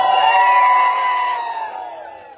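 A festival crowd at the Bujorul de munte folk festival in Romania lets out traditional chiuituri, loud high whoops from many voices held together and then sliding down as they fade.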